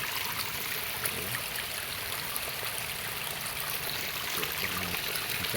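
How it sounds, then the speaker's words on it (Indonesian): Rainwater keeps flowing after a windstorm that toppled banana trees, a steady, close rush of running water like a small stream trickling and gurgling without a break. "tuh airnya masih ngalir sahabat itu"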